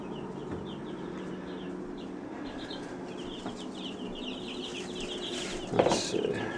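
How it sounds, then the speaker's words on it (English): Baby chicks crowd around food on a plate in the morning, a steady chorus of chirps and soft clucks with fluttering wings, rising into a brief louder scuffle near the end. "Would you like to see the birds go nuts over their food?"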